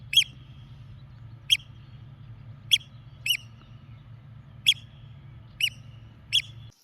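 Returning oystercatchers give sharp, piercing single calls, seven spaced notes at irregular intervals over faint low rumble, fairly close and without speech.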